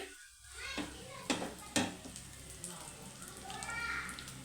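Chicken pieces fry in a pan with a steady hiss and sizzle, broken by a few sharp clinks of a utensil against the pan, while someone talks over it.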